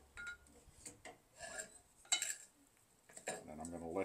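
A spoon clinks and scrapes in a pan while sausage, spinach, onions and garlic get stirred together, light metallic taps and rubs in short bursts, fairly quiet and close.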